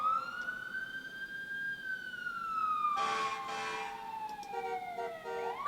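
Wailing emergency sirens from a sound effects library, a rising and falling siren tone sweeping steadily, joined midway by a blare of car horns layered on top, loud and continuous with no talking.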